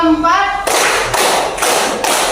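A primary school class in Indonesia performs a counted concentration clapping routine, a voice briefly heard before three or four broad bursts of group clapping land in a steady rhythm.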